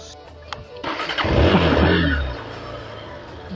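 A motorcycle engine cranks and fires up with a click, revs into a loud rumbling roar for about a second, then settles back to a quieter idle.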